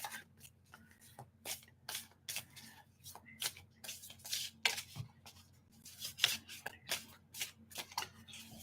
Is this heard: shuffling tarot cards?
yes